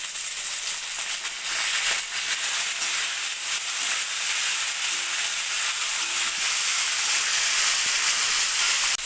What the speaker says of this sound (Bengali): এখন আমি এখানে দিয়ে দেবো এই যে ভেজানো ছোলাগুলো তেলের মধ্যে দিয়ে দেবো